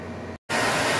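A blower drying a silk screen gives off a loud, steady rushing noise that cuts out for a moment and then resumes at full strength.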